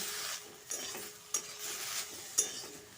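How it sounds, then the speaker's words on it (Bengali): Tomato frying in a pan until soft, a steady soft sizzle with occasional brief scraping stirs, close and alone. "টমেটোটাকে ভাজবো যতক্ষণ না টমেটোটা নরম হচ্ছে"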